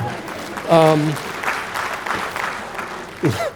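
Applause from a lecture audience, a brief burst of clapping that rises and fades in a few seconds, with a voice speaking over it.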